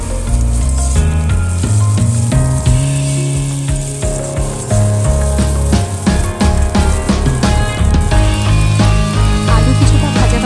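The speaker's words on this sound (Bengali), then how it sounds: "আমি 4 থেকে 5 মিনিট আলুটা ঢাকা দিয়ে ভেজে নেব" Sliced potatoes fry in a covered pan with a loud, constant sizzle and crackle close by, broken up by scraping and clattering of the lid and utensil as they are stirred.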